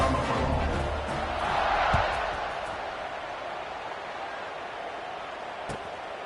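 A football stadium crowd roars just before the kickoff, a broad, steady wash of cheering that swells slightly and then holds at a constant level.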